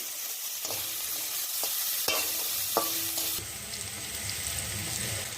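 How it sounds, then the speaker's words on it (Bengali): Chopped onion fries in hot oil in a kadai with a constant sizzle while a spatula scrapes and stirs in several distinct strokes, close and clear. "তারপরে দিয়ে দেওয়া হচ্ছে কুচনো পেঁয়াজ। পেঁয়াজটা ভালোভাবে ভেজে নিতে হবে।"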